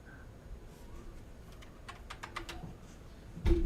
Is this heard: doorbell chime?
no